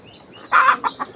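A desi hen sitting on her eggs to hatch them lets out a short run of close, soft clucks, one louder note followed by two quicker ones, alone in a quiet setting.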